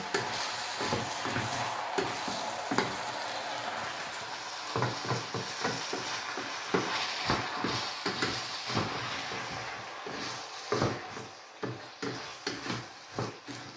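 Chopped okra fried in a little oil sizzles steadily while a spoon stirs it, making repeated scraping knocks against the pan that grow sharper and more frequent toward the end, close up and without talk.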